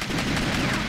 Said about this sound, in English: I'm shooting where he's supposed to be